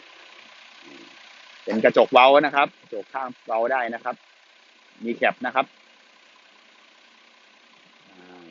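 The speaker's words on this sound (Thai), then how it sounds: "ได้ยินเสียงเครื่องไหมครับ" A steady low diesel engine idle from a Mitsubishi Fuso 160-horsepower six-wheel dump truck hums in the background while someone talks over it in several short bursts.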